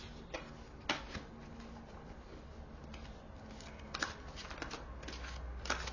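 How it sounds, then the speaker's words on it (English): Tarot cards being shuffled by hand, a soft continuous riffling patter with sharper flicks and taps at irregular moments, close and fairly quiet with no talking. "I think I'm going to draw some more cards"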